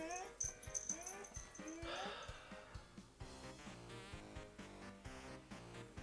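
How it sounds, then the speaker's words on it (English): A dog whines and whimpers nearby in a series of high, wavering cries broken by short breathy wheezes, with a person's voice softly in the background. "Patience of dog whines is at a considerable low today."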